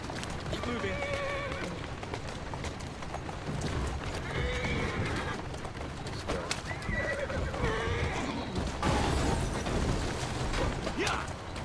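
In the video game Assassin's Creed Syndicate, a horse neighs and whinnies several times over rhythmic clip-clopping hooves on a street, with game ambience and some voices in the background.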